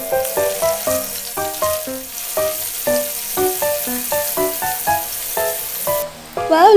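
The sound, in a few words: breaded pork belly (liempo) frying in oil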